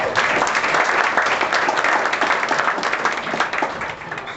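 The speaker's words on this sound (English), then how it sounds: "give yourself a big round of applause for that." A corporate event audience breaks into loud, continuous applause, a thick even clatter of many hands that tapers slightly toward the end.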